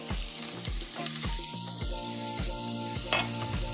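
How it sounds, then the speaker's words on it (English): Finely chopped onions sizzle steadily in a pan for street-style Maggi, a loud continuous frying hiss with a rhythmic series of low thumps and scrapes running through it. "So we'll take in our finely chopped onions and drop it like so."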